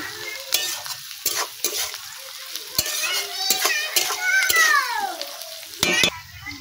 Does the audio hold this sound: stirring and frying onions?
yes